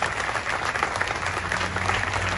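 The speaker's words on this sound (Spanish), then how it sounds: "Un aplauso para los familiares, los papás" Audience at a state sports awards ceremony for para-athletes applauding the athletes' families, a continuous, fairly distant wash of clapping with no pauses.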